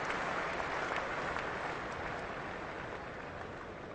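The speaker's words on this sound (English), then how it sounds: "Well, generous applause for the new batsman Mark Ramprakash" A cricket crowd at the England versus South Africa 1998 second Test applauds the new batsman, Mark Ramprakash, with a dense, steady wash of distant clapping that fades slightly toward the end.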